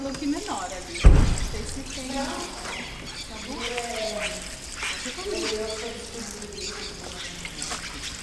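Water poured onto bare, unprotected soil in an erosion demonstration, with a sharp splash at the start followed by running, trickling water while someone talks over it.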